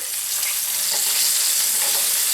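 A whole catfish frying in hot oil, a steady dense sizzle with small crackling pops, close and continuous with no talking.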